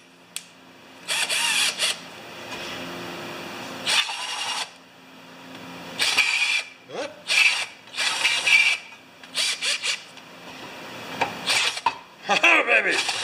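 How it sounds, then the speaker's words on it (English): Larger drill bit chamfering the edges of drilled holes while building a 12-volt charging cart, heard as repeated short bursts of close grinding and rasping with pauses between them and light handling clicks. "Get a bigger bit and chamfer the edges."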